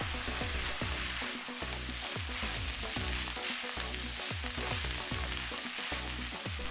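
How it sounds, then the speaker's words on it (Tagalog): Taiwanese pancit bihon rice noodles sizzle in a dry pan as they are stirred and cooked until soft, a dense steady crackle broken by regular scraping, stirring strokes. "Continue cooking hanggang lumambot na yung pansit for about 3 minutes"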